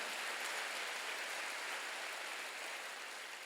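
A church congregation applauds during a Sunday service, a dense, even wash of many hands clapping together, sustained and fairly distant, with no talking over it.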